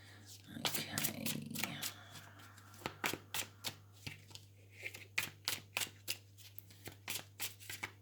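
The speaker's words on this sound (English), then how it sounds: "You're getting to see me shuffle." Quiet, rapid riffling of tarot cards being shuffled repeats in a steady rhythm, each short flutter close by, with a soft voice murmuring at the start.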